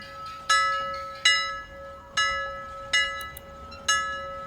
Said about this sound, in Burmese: အချက်ပေးခေါင်းလောင်းတန်တစ်ခုကိုကြားလိုက်ရတဲ့အခါမှာတော့